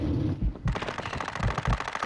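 Rapid automatic gunfire in the Call of Duty Warzone video game, a close, loud burst of evenly spaced shots after a brief muffled lead-in, firing continuously to the end.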